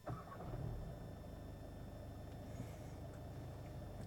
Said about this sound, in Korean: 아주 솔직하게 디젤 엔진을 깨우네요